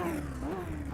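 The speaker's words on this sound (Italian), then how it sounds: "sentitelo già qua il motore rotativo come gratta" A raspy, high-pitched four-rotor rotary race car engine buzzes steadily for a moment, its tone wavering slightly up and down.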